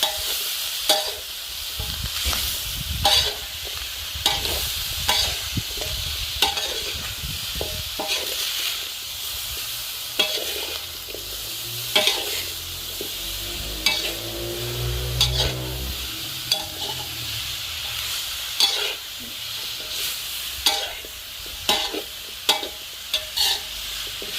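Bok choy and pork stir-frying over a charcoal stove give a continuous sizzle, broken by frequent sharp scrapes and taps of a utensil stirring in the pan.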